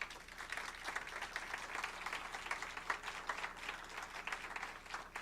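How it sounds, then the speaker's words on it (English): Sustained audience applause for a panel after a discussion on concussion risks and reforms, a steady wash of many hands clapping at moderate distance, with no talking over it. "I'd love another round of applause for the panel."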